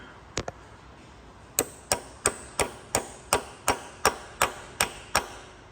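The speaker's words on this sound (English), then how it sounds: "I shall knock my Torx 30 bit in there." A hammer taps a Torx 30 bit into a drilled, snapped exhaust manifold stud on a Fiat 500 in a steady series of about a dozen sharp, evenly spaced strikes, preceded by two quick taps, close and fairly loud.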